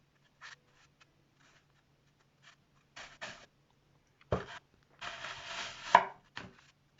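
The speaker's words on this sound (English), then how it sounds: "Then take the knife, give it a chop." A knife chops through a floral foam block for a balloon-weight centrepiece, giving several short, crisp cutting strokes in irregular bursts, close and fairly quiet, with a longer scraping cut near the end.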